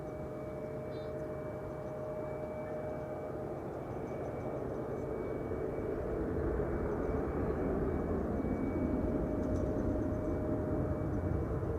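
An Emirates jet at Amsterdam Schiphol Airport makes a distant, low, steady engine rumble that slowly swells a little louder, with no talk over it.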